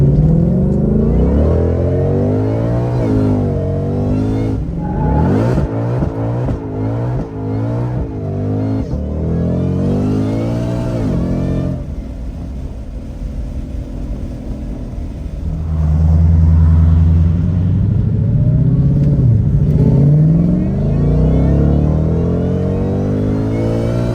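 A 900-horsepower Ford Shelby Mustang GT-500H race car, a Hertz rent-a-racer, pulls away with loud, close engine revving, repeated surges and gear changes rising and falling, then a heavy rumbling burst near the end.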